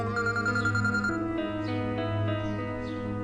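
A telephone rings with a steady, melodic electronic tune that keeps changing pitch, playing alone and clearly for several seconds.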